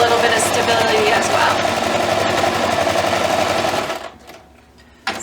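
A sewing machine top stitches around a quilted hot pad, running in a fast, steady mechanical whir up close before stopping near the end, while a person talks.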